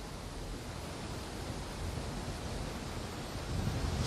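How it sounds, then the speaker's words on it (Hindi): High-tide sea waves surge at Juhu beach in Mumbai, heard as a steady wash of surf and wind noise that rises slightly toward the end. "देखिए तस्वीरें आप देख लीजिए और आप समझ जाएंगे कि कितनी ऊंची ऊंची लहरें अब भी हैं"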